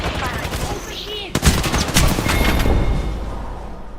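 Rapid gunfire rattles through a match of Apex Legends. A short burst is followed by a dense, loud volley of shots that fades toward the end.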